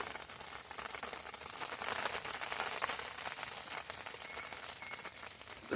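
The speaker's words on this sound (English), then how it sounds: "The rain is coming down." Rain falling as a soft, steady hiss with light crackling patter, swelling slightly in the middle and staying fairly faint throughout, with no voices.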